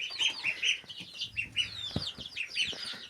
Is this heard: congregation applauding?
no